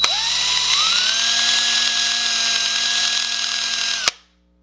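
A power drill whines steadily at high speed for about four seconds while drilling apart a Hot Wheels toy car, then cuts off abruptly, leaving near silence.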